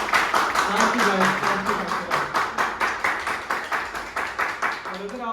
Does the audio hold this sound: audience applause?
yes